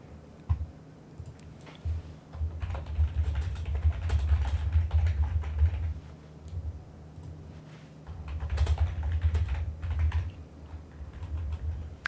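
Typing on a computer keyboard in a quiet room, with steady runs of close key clicks that pause briefly around the middle and then resume, heard alone without any voices.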